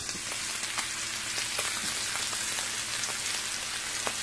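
A steak on a smokeless grill gives off a strong, continuous sizzle, loud and close, with scattered spitting pops and no voices.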